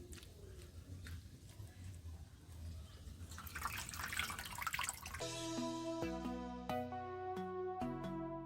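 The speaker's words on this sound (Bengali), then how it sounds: "ভালো করে ধুতে হবে, 2-4 বার জল দিয়ে দিয়ে ধুয়ে নিতে হবে" Mushrooms rinsed by hand in water, a soft splashing and trickling for about five seconds before melodic background music takes over and covers the rest.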